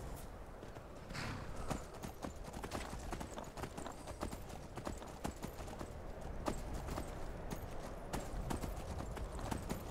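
Steady clip-clop of horse hooves at a walking pace in the video game Skyrim, close and continuous, with a windy blizzard rushing in the background throughout.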